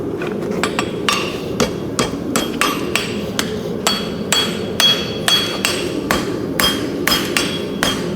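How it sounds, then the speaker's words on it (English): Farrier's hammer striking a horseshoe on an anvil at a forge, sharp loud metallic blows in a quick, fairly regular series of about two per second, close by and with no talk over them. "Be pulling my hammer down to get this section flat again"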